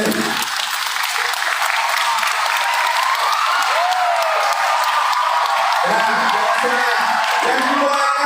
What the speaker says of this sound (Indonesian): Ini layak juga kasih tepuk tangan untuk mama kalian ini.